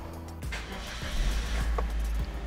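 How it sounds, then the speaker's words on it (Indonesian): A car engine cranks and fires up during a manual engine-flush test, then settles into a steady, close, low idle with no talk over it. "kita nyalakan mesin"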